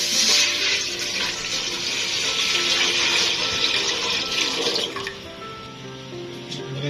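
Water is poured steadily into a cooking pot while making pork bopis, a loud continuous rushing pour that eases off near the end.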